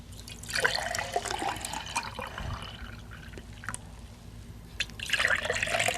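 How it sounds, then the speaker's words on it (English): Lemonade pouring from a pitcher into a glass, a steady close liquid splash and trickle with a brief pause midway before the pour picks up again. "we're ready to pour our lemonade"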